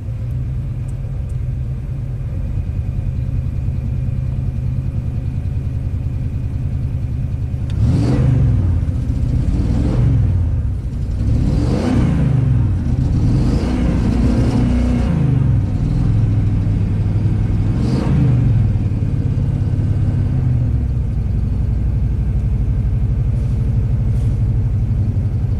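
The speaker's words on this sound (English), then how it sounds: "fighting against the engine that isn't running very well" A rebuilt Ford big block engine idles roughly with a misfire, its steady low rumble broken midway by a run of uneven surges and revs before settling back into a lumpy idle.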